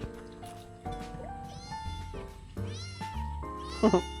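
A cat meows several times over a steady background hum, its calls rising and falling, with a louder, sharper cry near the end.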